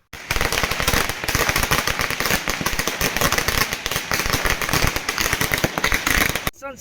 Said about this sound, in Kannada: ಮುಖ್ಯ ರಸ್ತೆಯಲ್ಲಿ ಪಟಾಕಿ ಸಿಡಿಸಿ ತಮ್ಮ ಸಂತೋಷ ವ್ಯಕ್ತಪಡಿಸಿದರು